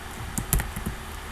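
A few soft keystrokes tap on a computer keyboard, close and quiet, in a short uneven burst over a low hum.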